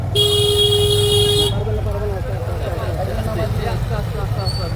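Loud car or vehicle horn blares steadily for over a second at the start, then road traffic with cars and motorbikes rumbles on beneath constant crowd chatter and a man calling out instructions during a street election campaign procession.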